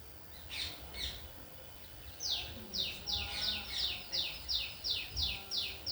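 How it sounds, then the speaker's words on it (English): Birds chirp in a rapid, regular series of bright repeated calls that starts partway through, with a few earlier calls and faint low background noise. "Birds are such a gift of God, you know, but so many of them are gone."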